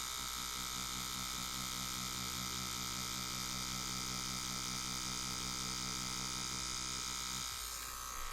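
A Neuma 4 rotary tattoo machine fitted with a soft-hitting cam runs continuously up close, giving a steady electric buzz and hum that barely changes for the whole stretch, alone with no talking.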